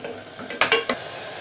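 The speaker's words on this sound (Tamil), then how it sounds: "சேர்த்து நல்லா கிளறி விடுங்க" Stirring a mint and tomato mixture in a pan for vada curry, with a few short scraping clinks of a spoon against the pan over a faint background, no talk.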